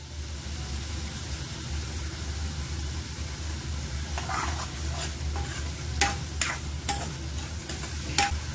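Asafoetida and curry leaves sizzling in hot oil for a garlic brinjal kulambu. A low, steady frying hiss continues throughout, joined in the second half by sharp spoon scrapes and taps against the pan.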